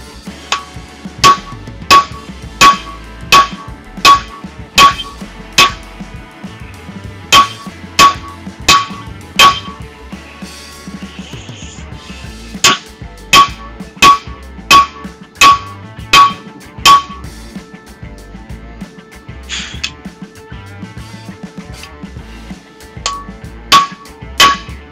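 Steady, loud hammer blows ring out in regular bursts, striking a Fuller butcher stuck in a tenon jig at a forge, with short pauses between groups of hits and no talking.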